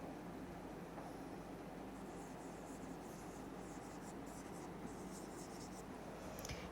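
Chalk or marker writing on a board during a biology class, a faint steady scratching that runs the whole time beneath low room noise, with no speech over it.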